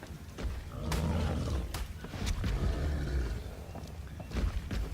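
An angry female creature in Ark, whose egg was stolen, attacks a player's house with repeated loud roars and heavy thuds over a constant low rumble, sharp impacts recurring every second or so.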